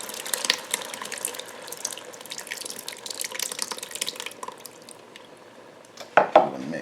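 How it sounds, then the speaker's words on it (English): Heavy cream mixture, two cups of it, poured into a Ninja Speedi pot, making a steady liquid splashing and trickling that ends in a few louder sloshes and clinks near the close; no talking. "Let's pour in our heavy cream mixture."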